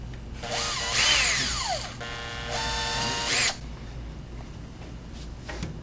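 A power drill bores a small screw hole while building a three-string panjo, whining up in two loud close bursts of rising and falling motor pitch before stopping, followed by faint handling sounds.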